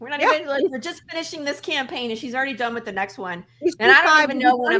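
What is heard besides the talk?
No everyday noises stand out.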